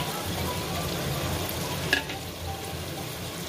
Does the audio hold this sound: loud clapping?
no